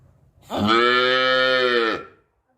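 A voice imitates a cow mooing: one sustained, tonal moo lasting about a second and a half, close and loud, with nothing else around it.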